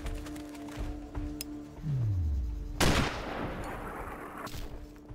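A single loud sniper rifle shot in the video game Sniper Ghost Warrior cracks sharply near the end, preceded by a descending whine and ambient game noise, with a lingering rumbling tail after the blast.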